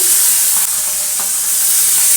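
Fried fish pieces go into a pan of sizzling masala with fried potatoes and tomatoes, giving a loud, steady hiss of hot oil close up with faint stirring knocks underneath and no voices.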